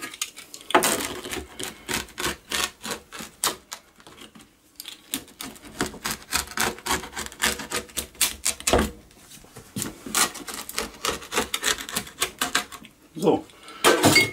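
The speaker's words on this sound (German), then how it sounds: "Und dann werde ich mir das Ganze klein schneiden." Knife chopping tarte flambée topped with goat cheese and fig on a small wooden board, a fast series of sharp, close, irregular cuts and taps that runs throughout.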